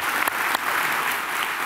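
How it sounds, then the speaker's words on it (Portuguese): A church audience claps in a short, dense, steady burst, with a few sharper individual claps standing out. "E vamos aplaudir a Jesus"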